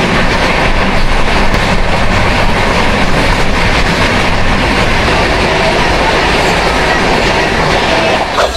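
A passenger train rolls along a line in Odisha near Bhadrak on the Kolkata–Daringbadi route, its loud, steady rumble and wheel clatter filling the whole stretch without letup.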